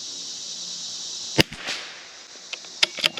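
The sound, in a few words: CZ 457 rifle gunshot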